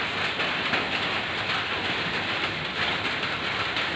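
Steady rain pours down over a construction site where lightweight aerated bricks are being plastered for a kitchen. It makes a continuous, dense hiss at a constant level for the whole stretch, with no voices over it.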